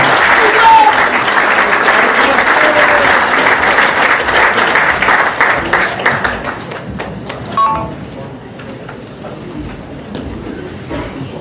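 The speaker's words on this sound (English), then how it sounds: "have a big hand of applause for Deepak Bansal" Audience applause for an honoree at an Indo-American Association event, dense sustained clapping for about six seconds before thinning into scattered claps and a few high pings.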